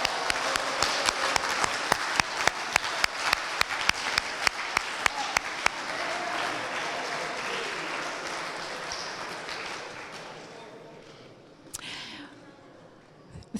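Audience at a trivia session on liberal arts education breaking into applause, with sharp distinct claps over a dense patter that gradually fades and thins out, ending in near quiet with a brief sound near the close.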